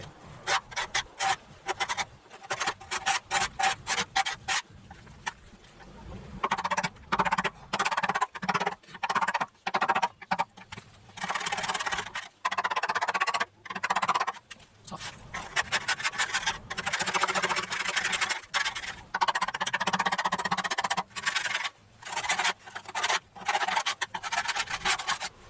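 A broom sweeps debris across a hard surface outdoors in long, scraping strokes that start and stop in an uneven rhythm. The strokes are close and moderately loud, with short pauses between bursts.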